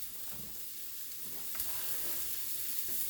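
A spoon stirs split pea and vegetable soup in a cooking pot, making faint, soft scraping and sloshing that runs steadily through the moment with no voices.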